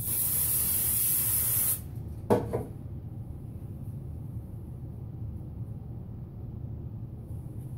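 An aerosol can of hairspray sprays braided hair in a steady, loud hiss for about two seconds, then stops. A brief clatter of handling follows over quiet room noise.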